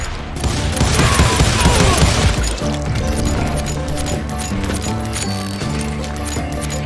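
A dense, loud burst of gunfire from many hired guns fills the opening seconds in the Call of Juarez Gunslinger game, then fades into sparser cracks over a steady musical backdrop.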